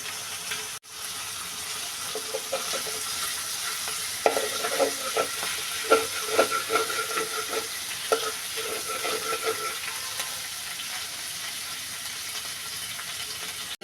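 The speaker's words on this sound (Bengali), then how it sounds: "চিংড়ি মাছ ভেজে নিচ্ছি লবণ হলুদ দিয়ে।" Prawns with salt and turmeric fry in a pan, a steady close sizzle broken by a run of clattering stirs in the middle, with faint watery hiss underneath and no talk.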